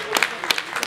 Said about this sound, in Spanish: recibámoslos con un fuerte aplauso a los emprendedores